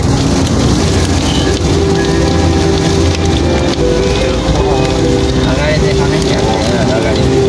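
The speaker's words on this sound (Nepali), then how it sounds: "अब यो पानी पर्न थाल्यो।" Rain begins falling outdoors in a steady, loud patter on surfaces. A voice can be heard faintly under the rain.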